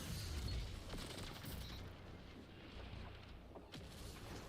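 Gunfire from a weapon in the video game Destiny 2, a dense, rumbling barrage of shots and booms with a few sharper cracks, steady and loud throughout.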